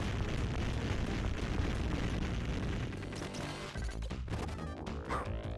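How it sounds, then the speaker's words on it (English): Grenade explosions in the video game Contra Hard Corps, dense, loud, continuous blasting and crashing that thins out midway into scattered bursts and impacts. "Grenades will save me."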